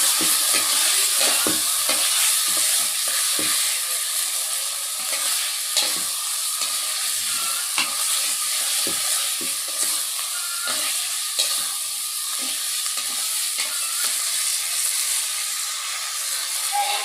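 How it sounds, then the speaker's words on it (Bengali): Spice paste frying in a pan and being stirred, a loud continuous sizzle and hiss with frequent scraping and clinking of the spatula throughout, no talking. "মশলাটা আমি একটু কষাই নেব সুন্দর করে।"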